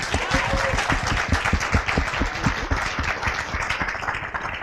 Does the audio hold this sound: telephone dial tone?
no